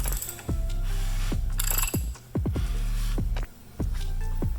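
Crankshaft of a Mercruiser 5.7L boat engine turned over by hand during a rebuild, giving a series of close mechanical ratcheting and clicking rotations with brief pauses between turns, and no talking.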